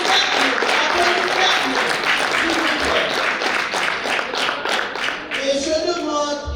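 Dense, sustained applause fills a university graduation ceremony hall, many hands clapping loudly and continuously, with crowd murmur and a voice briefly audible toward the end.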